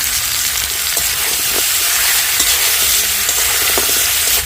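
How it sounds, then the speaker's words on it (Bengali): Sugarcane jaggery goes into a hot pan of chalta (elephant apple) pickle, giving a steady loud sizzle and frying hiss with faint stirring scrapes throughout, no voices. "এবারে দিয়ে দিচ্ছি আখের গুড়"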